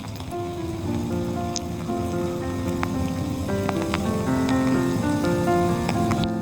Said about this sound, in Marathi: पाऊस जाण्याची वाट बघत होतो